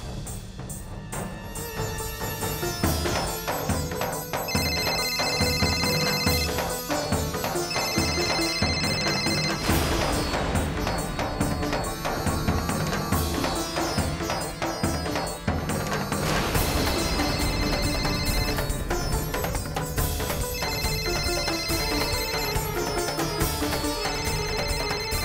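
A phone rings repeatedly with a steady, insistent electronic tone, loud and close, continuing for a long stretch with no one picking up.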